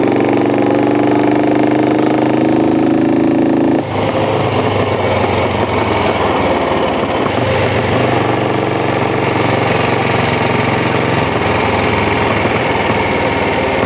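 A Norton Isle of Man-winning race motorcycle with high gearing runs continuously, its engine loud and close, a steady throbbing roar that shifts in tone partway through without stopping.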